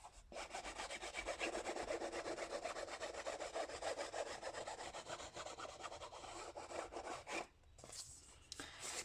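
Continuous dry rubbing of an ink pad or applicator drawn along a paper edge for a mixed media art folder, a steady close scraping texture with a faint rhythmic grain, heard alone with a brief pause near the end.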